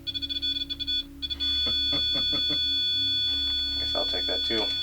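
Rapid electronic beeps sound in a quick burst, followed by a sustained high tone, with people talking over it nearby.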